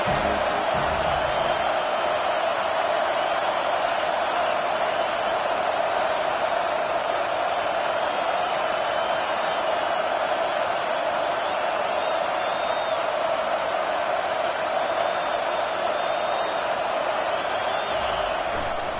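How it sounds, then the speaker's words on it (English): A large American football stadium crowd roars in a steady, dense wall of noise, with cheering swelling throughout and faint commentary-like talk underneath. "This crowd bringing the energy and noise early."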